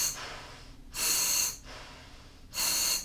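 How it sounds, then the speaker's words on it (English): Two loud, close breaths drawn through a Dixie Divers bailout pony bottle regulator, each a hissing rush of air with a quieter exhale between them, no talking. "if I want to use it, I just grab it and breathe from it."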